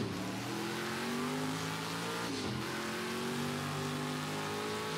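Sauber C9 LM race car engine in Project CARS 2, revving and droning steadily at close range with shifting pitch and a brief dip midway, heard alone.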